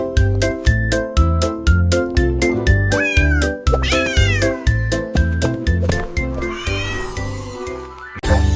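A cat meows repeatedly in a French children's nursery rhyme song about a silly cat. The meows are set within loud, rhythmic music with a steady beat.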